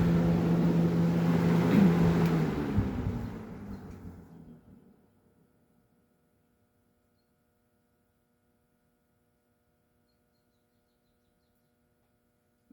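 A vintage Lakewood box fan runs with a steady low hum and airy whoosh that winds down and fades out after about five seconds, leaving near silence.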